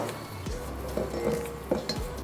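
A utensil scrapes around the sides of a mixing container of wet, sticky garlic herb roll dough, giving a few soft scraping strokes and light clinks, close and quiet with no talk.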